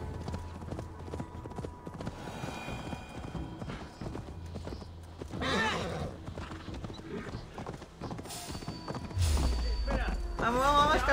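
Horse hooves clip-clopping at a gallop in the Viking-era game Assassin's Creed Valhalla, a steady rhythmic beat with occasional whinnies and game ambience, while someone talks excitedly over it.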